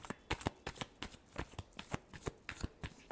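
Tarot cards are shuffled in quick, crisp riffling bursts, a dozen or so rapid flutters close by and quiet.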